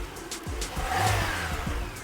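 A Citroen Peugeot car engine cranks and catches, a short burst of rhythmic starter pulses settling into a running idle, close and moderately loud.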